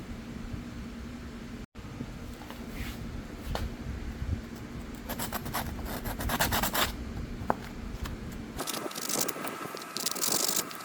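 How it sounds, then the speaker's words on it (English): Sandpaper scrapes across the spark plugs of a 1987 Yamaha Radian motorcycle in a continuous, close, gritty rubbing that varies in pace, with occasional clinks and handling noises. "We're going to clean them just with sandpaper"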